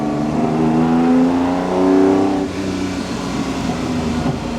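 A replica Ferrari 250 GTO's engine revs loudly and close by, its pitch climbing and holding through two swells before dropping back to a rougher, steady idle, with no voices.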